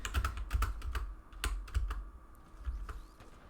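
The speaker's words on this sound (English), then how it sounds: "Sorry for the annoying like clacking in the background. I'm using a mechanical keyboard because I am a pro gamer" A mechanical keyboard clacks in rapid, irregular bursts of keystrokes, close and fairly loud against a low background rumble, with no speech over it.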